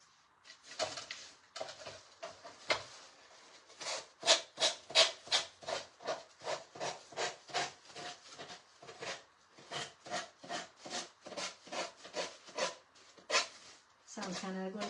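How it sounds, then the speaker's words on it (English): Sandpaper sands the edges of a chalk-painted antique piece, making a steady run of rhythmic rasping strokes, close and fairly loud. "So I'm going to see if I can sand off some of the edges here."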